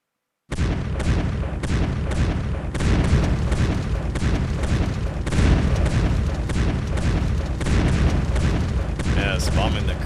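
Bombing in the World War I strategy game To End All Wars: a dense, continuous barrage of booming blasts and artillery thuds, loud and sustained throughout, with a voice talking faintly beneath.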